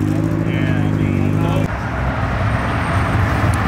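A new Toyota Supra rolls up at a car meet, its engine humming with a steady tone that cuts off into rumbling traffic noise, with people talking nearby.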